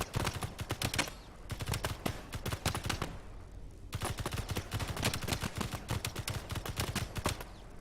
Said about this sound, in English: How inaccurate is this gun?